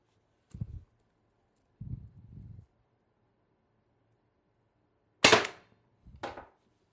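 A TR50 Torpedo paintball marker with an upgraded bolt spring firing four separate sharp shots spaced across several seconds, the last two louder and crisper, with quiet pauses between.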